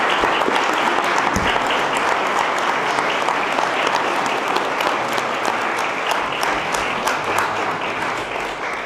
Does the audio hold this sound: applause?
yes